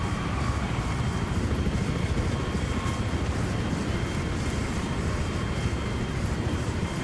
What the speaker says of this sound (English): We got our whole squad in a jet